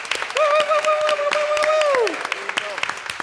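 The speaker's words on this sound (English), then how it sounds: "let's give her a round of applause" A church audience claps in a quick, crackling burst while a person cheers loudly with a sustained call over the clapping, then the applause thins out toward the end.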